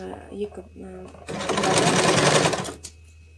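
A sewing machine stitches quilt fabric in a fast, loud whirring burst of about a second and a half, with a few clicks and faint talk just before it starts.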